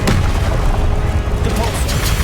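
Spell impacts and blasts from the video game Hogwarts Legacy, with dense booming hits and crackling bursts in steady succession, loud and continuous over a rumbling background of game effects.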